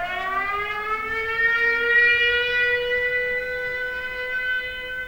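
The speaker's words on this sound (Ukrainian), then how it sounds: "ну у нас повітряна тривога" Air raid siren sounding during a municipal executive committee meeting in Ukraine: a loud, steady wailing tone that fills the whole stretch, with no speech over it.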